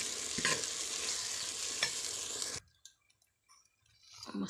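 Tomato and lentils are stirred in a pot over a village wood-fired stove, giving a close, scraping, sizzling stir for about two and a half seconds before stopping abruptly, then brief faint clatter.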